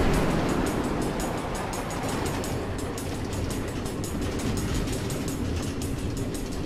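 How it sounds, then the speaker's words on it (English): Minecarts roll along automated train tracks through the Nether in Minecraft Story Mode, a steady, loud rumbling rail sound with faint rhythmic clicking that runs without a break and without voices. "Automated train tracks running all through the nether, connecting all the different order members."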